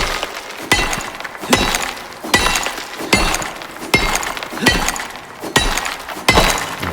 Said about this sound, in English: It sounds different at the very end when it pops.